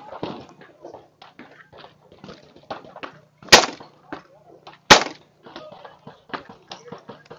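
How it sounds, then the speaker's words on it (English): A Beretta shotgun fires two sharp, loud shots into the open air a little over a second apart, between stretches of people talking nearby. "We don't have any clays left, so you're just shooting out in the air."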